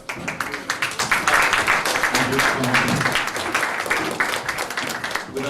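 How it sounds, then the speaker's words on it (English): Applause from an audience at a HeForShe gender equality panel, thanking the committee: a dense, steady round of clapping from many hands that lasts throughout. "Just a big applause to these guys."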